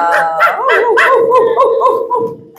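Voiced dog barks and yips in a Nepali-language puppet show, repeated in a quick excited run, loud and near with no other speech.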